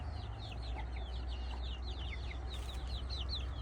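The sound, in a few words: chickens clucking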